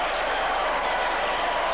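Football stadium crowd applauding a goal in a 1984 Tigers match, a steady wash of distant clapping and crowd noise with no break.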